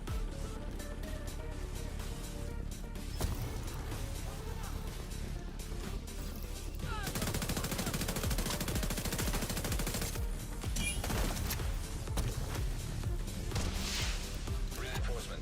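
Rapid assault rifle fire from a third-person shooter, The Division 2, rattling in dense continuous bursts through a loud, busy battle mix, with constant crackling impacts and heavier barrages; a voice talks along at times.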